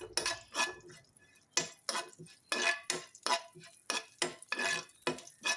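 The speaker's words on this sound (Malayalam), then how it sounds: "ചെറിയ ജീരകം ഒന്ന് മൂപ്പിച്ചെടുക്കണം" Cumin seeds are roasted in oil in a pan while a utensil stirs and scrapes in a quick, regular rhythm, close and fairly quiet, with no talking.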